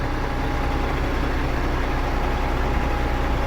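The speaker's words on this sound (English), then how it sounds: "The engine still runs good and strong." A Freightliner FLD 120 truck engine idles up close, a steady deep diesel rumble with an even low throb that holds constant throughout, with no one talking over it.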